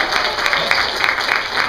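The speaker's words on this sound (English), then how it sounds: "This is where you applaud." A church audience applauds steadily at moderate volume, a brief, dense burst of many hands clapping throughout.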